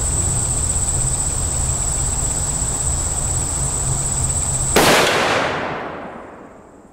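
A single loud gunshot from a Savage 116 rifle with a 24-inch barrel firing a 150 grain 300 Win Mag round outdoors, cracking sharply after a steady high insect chorus and fading into a brief tail.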